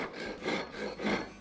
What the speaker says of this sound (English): We also have rasps, different types of rasps here that can be used as well